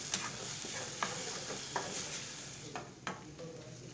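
Tomato and spice masala is stirred in a frying pan over a medium flame, with a steady sizzle broken by several sharp scrapes and clinks of the spoon against the pan. The sound is close up and there is no talking.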